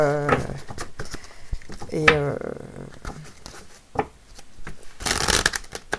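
Oracle cards being shuffled for a card reading, a soft papery riffle heard in short bursts amid a voice talking, with a brighter rustling flurry near the end.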